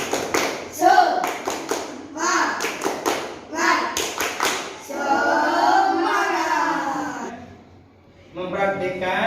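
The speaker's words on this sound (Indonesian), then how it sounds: "Tepuk semangat." Students in an Indonesian classroom perform a rhythmic spirit clap, bursts of patterned claps and taps repeated in groups, with children's voices chanting along between and over the claps.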